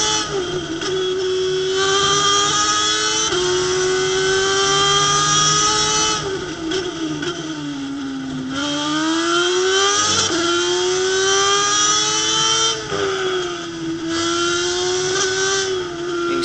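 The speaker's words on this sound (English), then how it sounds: "I like the sound of the engines a little bit better" A Spec Racer Ford SRF3 race car runs at high speed on a racing circuit, its engine a continuous loud, buzzing whine. The pitch rises and falls repeatedly through upshifts and corners.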